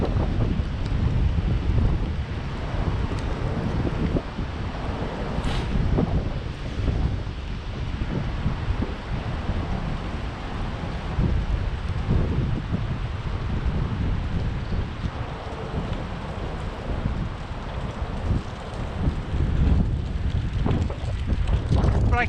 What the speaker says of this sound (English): in the cold wind.